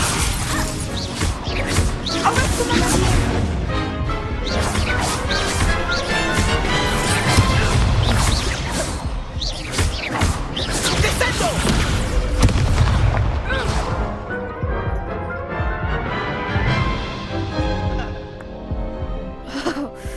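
Spells fly in a Hogwarts Legacy duel, producing a dense, nonstop barrage of loud crashes, booms and sharp impacts that pile on each other with hardly a pause.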